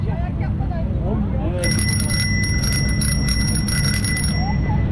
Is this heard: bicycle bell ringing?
yes